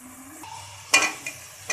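Masala spices fry in oil and are stirred around a pan, a soft sizzle broken by a few sharp scraping strokes of a spoon against the metal, close and moderately loud, with no voices.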